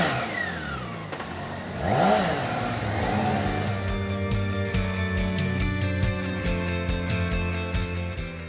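A BMW K1600 GTL flagship touring motorcycle out on an open road, its engine revving up and pulling hard with rising pitch, then holding a steady, smooth drone, loud and close with no talking.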